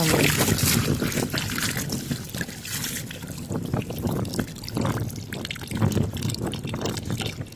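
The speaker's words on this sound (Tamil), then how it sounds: "தண்ணி வந்து ஒரு சைடு ஃபுல்லாகிடுச்சு இப்போது அடுத்த சைடு திறந்து விட்டுருக்கோம்" Water flowing steadily into a garden bed on a farm plot, a continuous loud gurgling, splashing stream that stays close and unbroken throughout.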